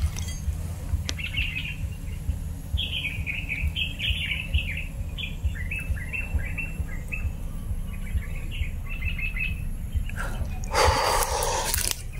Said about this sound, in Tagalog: Ibon na tumutunog